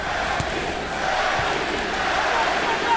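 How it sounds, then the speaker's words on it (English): A boxing arena crowd at the Pacquiao vs. Bradley fight fills the air with a dense, steady roar, chanting for Manny Pacquiao in a rhythmic, sustained wall of voices heard from a distance. "The chant you hear is Manny, Manny, Manny."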